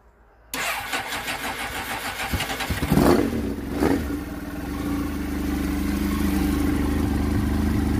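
A Suzuki GSX-R motorcycle, rear wheel raised off the ground, fires up after a brief silence, then settles into a loud, steady idle with a couple of blips of the throttle early on.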